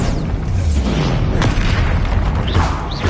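Loud, dense booming from the Bombarda spell in the video game Hogwarts Legacy fills the whole span as one continuous roar of explosions, with a couple of brief whooshing spell effects near the end.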